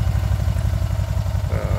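A 2011 Can-Am Spyder RT with its stock exhaust idles close by, giving a steady, pulsing low rumble with an even throb and no talk over it.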